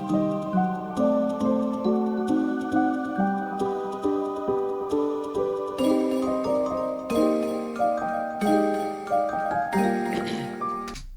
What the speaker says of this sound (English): like the bells or like a tambourine or anything, immediately makes it feel like winter